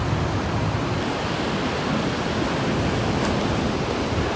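Ocean waves at the sea roar as a dense, steady wash of surf noise, loud and continuous with wind buffeting the microphone, no voices.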